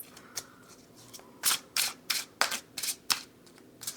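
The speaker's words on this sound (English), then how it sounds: "can we finish shuffling, please?" Tarot cards being shuffled by hand during a reading: a rapid series of crisp riffling flicks and slaps, close and fairly loud, in uneven bursts with no talking.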